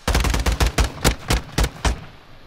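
Gunfire in Call of Duty: a rapid automatic burst of close, loud shots that slows into a series of evenly spaced single cracks before falling quiet.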